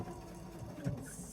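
A sewing machine edge stitching fabric, running backwards and forwards: a short, close mechanical whirr of the needle drive with a small bump in the middle, fairly quiet, no talking.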